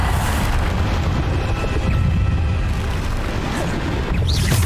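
A Bombarda spell in the Hogwarts Legacy video game sets off rumbling, booming blasts. The low, heavy explosive roar is continuous and loud, with a faint crackle at the end.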